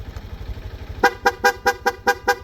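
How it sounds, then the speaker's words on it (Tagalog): A Honda Click V3 scooter sounds its stock horn in six short, evenly spaced honks, loud and close, after a low idling rumble. "Pag nakapatay yan, yung stock na horn ang tutunog."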